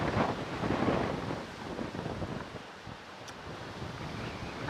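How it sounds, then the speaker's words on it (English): Gusty wind buffets a camera microphone outdoors at Manchester Airport, a loud, continuous rumbling roar that swells and eases in waves, with no voices over it. "I've got to fight with this wind now this afternoon."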